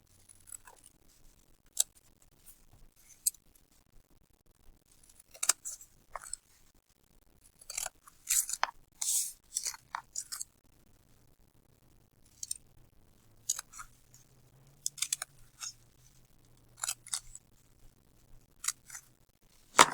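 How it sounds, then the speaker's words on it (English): Scissors cut along lines on paper in repeated short snips, crisp and close, coming in bursts with quiet pauses between them. "So I'm going to cut these up along each line."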